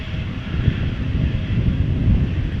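An Embraer E195-E2 jet airliner departing Amsterdam Schiphol gives off a steady, loud engine roar with a low rumble, close by and continuous throughout.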